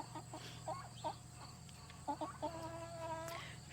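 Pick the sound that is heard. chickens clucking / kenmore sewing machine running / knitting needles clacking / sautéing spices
chickens clucking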